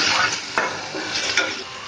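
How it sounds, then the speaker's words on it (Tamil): Potato, carrot and curry leaves sautéing in a hot pan, a steady close sizzle with two sharp scrapes of a spoon stirring against the metal, no voices. "உருளைக்கிழங்கு, கேரட் போட்டு கருவேப்பில போட்டு வதக்கணும்."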